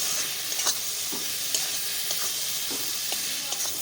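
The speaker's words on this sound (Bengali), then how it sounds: "ঠিক এই স্টেপে আমি এর মধ্যে দিয়ে দিচ্ছি টমেটো কুচি" Chopped tomato hits spiced masala in oil for a pomfret fish curry, sizzling steadily up close with a few soft stirring scrapes, no voices over it.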